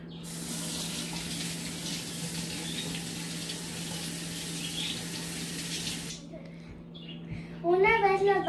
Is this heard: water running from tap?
yes